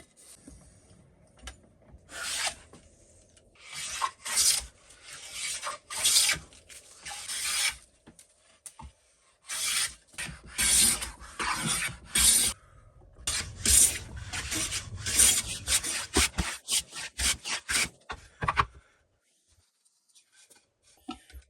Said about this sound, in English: Just gotta start planing them now.